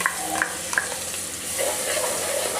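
Spicy ground masala gravy fries in oil in a pan, a steady soft sizzle with occasional stirring scrapes and small pops throughout, close and alone.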